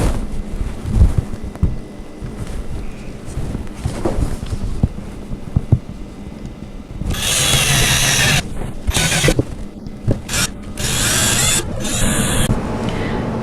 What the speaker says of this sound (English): I'm going to be using a drill to make it a little bit easier